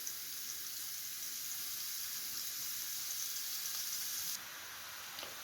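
Mince and onions fry in a pan with a steady, close sizzle and hiss that softens slightly near the end, with no talking.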